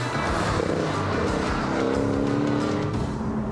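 Porsche Boxster S with a four-cylinder engine driving along a country road, a steady loud engine drone with rising harmonic tones as it accelerates, continuous and close throughout.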